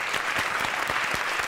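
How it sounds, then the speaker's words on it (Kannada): Audience applause at a Kannada televised singing competition, a steady dense wash of many hands clapping, welcoming the judges and accompanying musicians on stage. "ವಾದ್ಯ ಕಲಾವಿದರಿಗೆ ಜೋರಾದ ಚಪ್ಪಾಳೆಯೊಂದಿಗೆ ಸ್ವಾಗತ ಮಾಡೋಣ"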